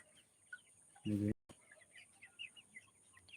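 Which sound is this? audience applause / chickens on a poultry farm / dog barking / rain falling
chickens on a poultry farm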